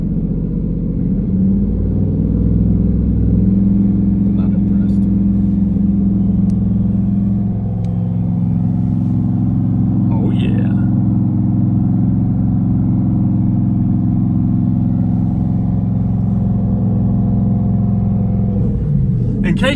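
A single turbo 2018 Ford Mustang GT engine held steady at 2,500 rpm, a loud, constant low droning hum with a faint whine and occasional light ticks, running throughout at even volume.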